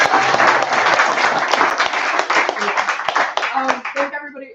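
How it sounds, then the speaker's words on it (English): Applause at a Friday-night post-election community meeting: a crowd claps loudly and densely, then the clapping thins into scattered individual claps as it fades. "I just want to get one more round of applause for everybody who came out on their Friday night"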